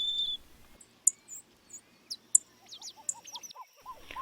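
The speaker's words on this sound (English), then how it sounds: "the Horseshoe Loop Trail that runs around the perimeter of the lake and is home to many different songbirds, such as orange-crowned warblers, golden-crowned sparrows, and dark-eyed juncos" Songbirds such as orange-crowned warblers, golden-crowned sparrows and dark-eyed juncos sing along a lakeside loop trail, with faint, thin chirps and short rising whistles scattered over quiet open air.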